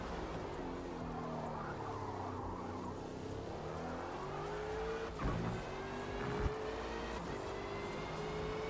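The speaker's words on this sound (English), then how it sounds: "Hard on the brake." A race car brakes hard at Suzuka in Forza Motorsport, engine note dropping through downshifts with a tire squeal and skid, loud and close, followed by renewed acceleration.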